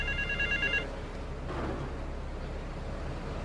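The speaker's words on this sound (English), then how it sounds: "Get to the phone in West Belleville Park." A telephone rings in Grand Theft Auto III, a short electronic trill of repeated rings lasting under a second, then cut off and followed by a low ambient hum.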